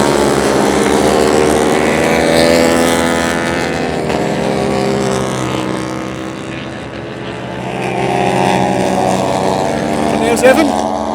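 Racing motorcycles at the Scottish Bike Championship at East Fortune scream past at racing speed, their loud engine drone rising and falling as bikes approach and pull away.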